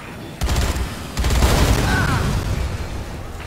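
Explosions in the video game Dead Rising 3 as a car bursts into flames, two booming blasts with rumbling bursts of debris, loud and close.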